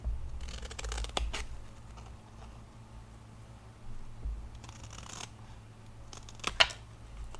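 Scissors trim patriotic ribbon on a distressed 4th of July rosette craft piece, giving a few short, close snips and crisp blade clicks separated by quiet pauses.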